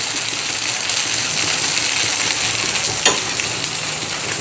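Beetroot ghavan batter spread thin on a very hot griddle over a high flame, giving a loud, dense, continuous sizzle with one brief clink near the end and no talking.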